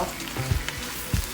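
Butter sizzles and bubbles steadily in a pan where chicken tenders are cooking. The frying hiss is soft and close, with a couple of low bumps from the pan and no one speaking.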